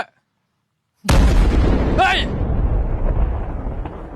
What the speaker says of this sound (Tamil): சிலிண்டர் வெடிச்சிருச்சா இல்ல போர் குண்டு மாத்தி இங்கிட்டு விழுகுதா